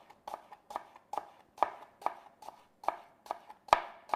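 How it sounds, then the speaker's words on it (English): Shallots sliced with a knife on a cutting board, about a dozen crisp, evenly spaced chops in a quick steady rhythm, close and clear with no talking. "we're going to now slice shallots"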